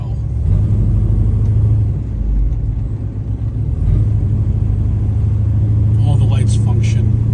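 A restored 1970 Chevrolet Chevelle drives down the road, its engine a steady low rumble that dips briefly and then swells again, with someone talking over it throughout.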